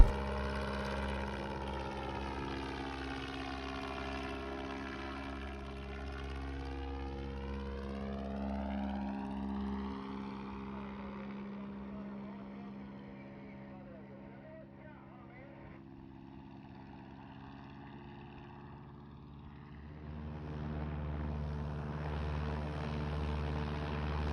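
A small propeller airplane drones steadily overhead in slow flight, its engine pitch sweeping gradually and fading somewhat before swelling back near the end, continuous and moderately distant.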